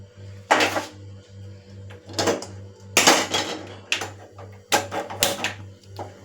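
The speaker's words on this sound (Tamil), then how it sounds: "அடுப்பத்தை வச்சு சட்டி அடுப்பில் வச்சாச்சு" A cooking pan clatters onto a kitchen stove in several sharp metallic knocks and rattles spread over a few seconds, close and loud above a low steady hum, with no speech.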